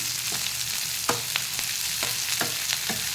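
Vegetable curry frying on a medium-high gas flame sizzles steadily while a spoon stirs and turns it, producing repeated soft scraping clinks at an irregular rhythm close by.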